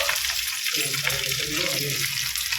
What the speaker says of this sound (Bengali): এটা তো ফোড়ন দিয়েছি এই মাত্র, এগুলো লেগে রয়েছে ফোড়ন দিলাম